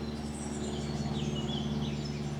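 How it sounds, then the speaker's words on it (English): A blackcap sings on a short countryside walk near Flitwick, its faint, fluttering warble sitting over a steady low rumble of background noise. "Hear that? Blackcap. First one I've heard today."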